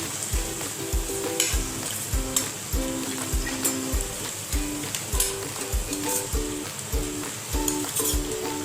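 Spices and cooked jackfruit sizzle loudly in a hot pan while a utensil stirs and scrapes in a steady repeating rhythm, with no talking.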